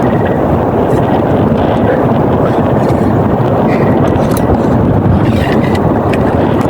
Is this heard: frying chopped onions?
no